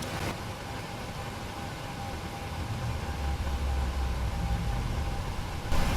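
A Boeing 737-800 jet engine spooling up during start in a PMDG flight simulator, a steady broad roar with a faint tonal whine that swells gradually over several seconds, with no talk.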